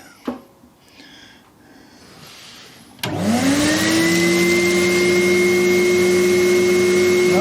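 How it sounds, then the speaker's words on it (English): A homemade drain pump starts up with a sudden loud motor whine as it sucks oil out of a milling machine sump, then holds a steady, close, rising hum. Before it starts there is only quiet workshop noise. "It's definitely sucking oil in."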